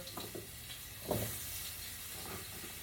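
Sweet potato pieces with the skin left on frying in a skillet, a soft low sizzle with a brief clatter as they land and shift, faint and close, no talking.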